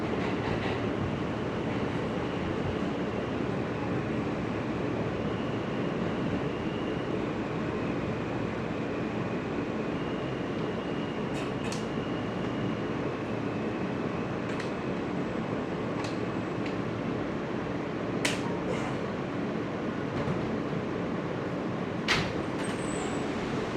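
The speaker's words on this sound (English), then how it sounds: "This is a Manhattan-bound E Express train." A Manhattan-bound E Express subway train in New York runs steadily with a continuous loud rumble and rail roar, broken by a few sharp high squeals and clicks along the track.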